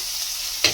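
Ginger drops into hot oil in a clay pot for a fish curry. A short, sharp sizzle bursts up after quiet background noise, and there is no talk.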